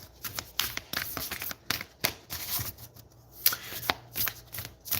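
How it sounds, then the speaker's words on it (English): A deck of oracle cards is shuffled up close in quick, repeated riffling bursts with brief pauses between, and no one speaks. "I'm shuffling right now from the Work Your Light Oracle deck"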